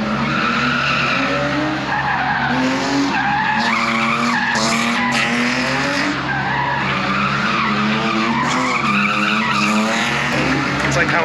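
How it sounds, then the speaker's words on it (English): Cars drifting at a drifting competition, tires squealing and skidding in long wavering screeches over steady engine noise, with people talking over the sound. "It's like a drifting competition or something."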